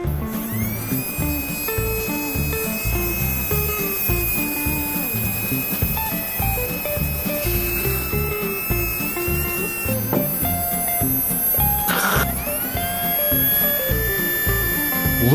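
A small electric motor in a Tamiya Mini 4WD car whines continuously at high speed while being run in, its pitch rising and shifting, with a sharp spin-up partway through.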